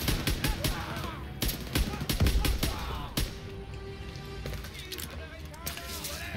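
Gunfire in Call of Duty WWII, rapid bursts of sharp shots and crackling automatic fire under someone talking in French, with scattered clusters of reports throughout.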